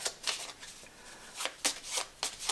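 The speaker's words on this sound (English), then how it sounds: "put one dividend card in there and shuffle it" A small pile of 18 board game cards, with one dividend card added, riffled and shuffled in the game Union Pacific: several quick papery bursts of card flicks, close and crisp, no talking.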